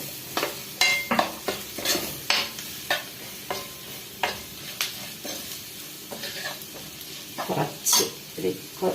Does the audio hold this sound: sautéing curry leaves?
yes